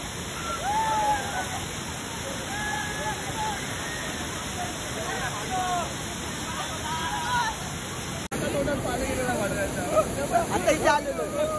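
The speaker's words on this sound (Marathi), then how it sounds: "आता काय धबधबा आहे" Waterfall on the Khopoli river, a loud constant roar of falling water heard close up, with people talking faintly over it and a brief break partway through.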